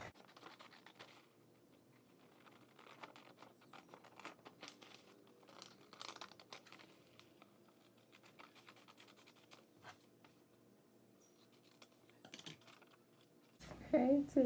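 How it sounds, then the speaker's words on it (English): Soft crisp snips and rustling of paper scissors cutting out a paper pattern for a cloth face mask, a quiet irregular series of small cuts and crinkles with a louder handling burst at the end. "you get your scissors for paper, and you cut out your pattern"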